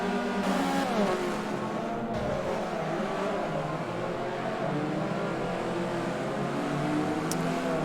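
Race cars in the Forza Spec Racing Series, a Forza Motorsport game, roar past in a pack with engines revving and shifting pitch, a dense, loud, continuous drone of several cars throughout.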